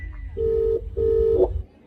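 A telephone call goes out and rings at the far end with no answer: two steady ringback tones, each lasting under a second, separated by a short gap, with no voices.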